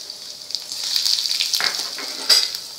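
Cumin and mustard seeds sizzle in hot oil as a tempering for kanda poha, giving a thin, bright crackle with scattered pops and a couple of louder bursts, alone without talk.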